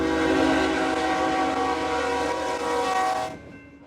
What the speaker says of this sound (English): Dozens of trains race through Gallup's downtown every day, regularly killing people out walking.